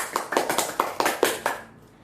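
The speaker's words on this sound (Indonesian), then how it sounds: "Beri tepuk tangan juga untuk Nino." A small group in a micro-teaching classroom claps for a student in a quick rhythmic pattern of about eight evenly spaced claps that stop abruptly.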